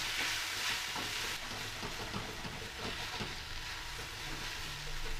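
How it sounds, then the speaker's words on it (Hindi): Coarsely ground green peas roast with asafoetida in a pan over a medium flame, giving a soft, continuous sizzle broken by scraping stir strokes, fairly faint and with no voices. "इसके बाद ये मटर के जो हमने दरदरा पीसा था इसको डाल के ऐसे हम थोड़ी देर इसको भून लेंगे।"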